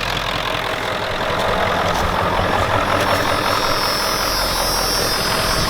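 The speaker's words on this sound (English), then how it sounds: "So let's rev her up a little bit longer time and then shut her off." Old Ford F-250/F-350 7.3L diesel engine running steadily at raised revs, a loud, continuous rough rumble with a faint knocking texture, heard alone with no talk.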